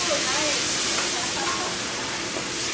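Onion and fenugreek seeds crackling in hot oil in a restaurant kitchen, a steady close sizzling hiss that runs without a break through the whole moment, with faint voices in the background.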